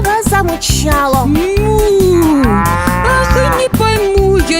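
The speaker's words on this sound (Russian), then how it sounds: "Корова замычала." A cartoon cow gives a long, loud, bending moo, close and clear over a bouncy rhythmic children's song backing.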